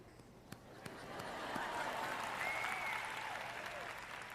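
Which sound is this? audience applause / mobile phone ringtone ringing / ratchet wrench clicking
audience applause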